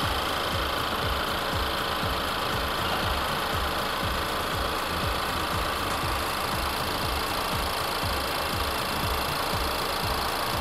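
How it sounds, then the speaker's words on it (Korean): A 2013-era fifth-generation Ford Explorer 2.3 Limited 4WD with its bonnet open, the engine idling steadily in the bay with an even, continuous mechanical hum and fine rhythmic ticking, close and uninterrupted, with no talk. "엔진 소리 일정합니다."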